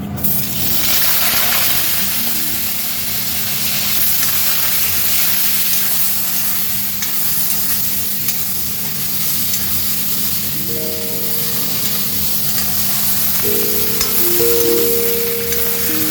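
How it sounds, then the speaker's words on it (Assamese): Fish frying in hot oil for an Assamese Deori home-style lunch, a steady, close sizzle and spatter running throughout with a low background hum and some tonal kitchen noise near the end. "তেল গৰম হৈ গৈছে মাছ দিছোঁ"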